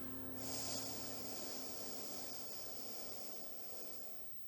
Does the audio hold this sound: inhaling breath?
yes